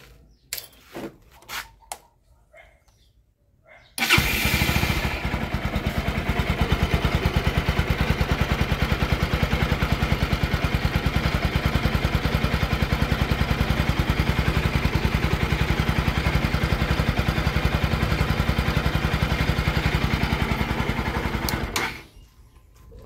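A Kawasaki 200NS motorcycle engine, untouched for eight years, idles steadily and loudly for most of the clip, with a busy valve ticking rattle running through it, then cuts off near the end.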